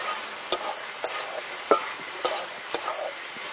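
Fresh green peas for ghugni being sautéed and stirred in a pan, a soft steady sizzle broken by regular spoon clicks and scrapes, no talking.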